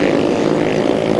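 A grasstrack racing motorbike at a 1997 Keylands meeting blasts a loud, sustained exhaust roar at full throttle down the back straight, close and unbroken.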